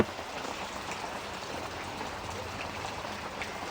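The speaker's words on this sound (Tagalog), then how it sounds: "Inabutan pa kami ng ulan habang nagluluto." Rain falls steadily during outdoor cooking, a dense, even hiss of drops on surfaces that holds at a constant level with no breaks.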